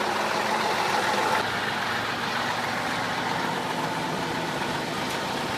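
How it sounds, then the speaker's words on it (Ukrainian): Special forces vehicles drive toward people on a road in Vasylkiv, a steady broadband engine and road rumble holding at an even level throughout, close and fairly loud, with no clear talk over it. "Вони їдуть, Андрій. Вони їдуть сволочі."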